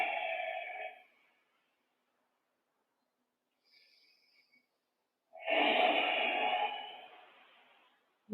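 A person breathes deeply during power yoga, a long, close exhale, then near silence with a faint rustle, followed by a second strong breathy exhale that fades out.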